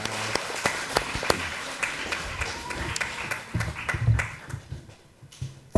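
A church congregation applauds to encourage people returning to their seats after greeting, with sparse, uneven claps scattered at moderate distance and fairly soft, plus faint murmuring and shuffling.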